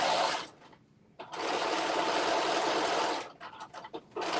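A sewing machine stitches a dress in steady, loud runs, stopping briefly near the start and again toward the end with short stuttering bursts, close and without talk.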